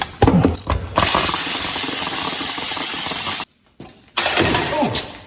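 A ratchet wrench works to break a bolt loose on a Dodge Ram truck, producing loud, close, dense mechanical rattling that holds steady for a few seconds, cuts out briefly, then resumes with sharp clicks.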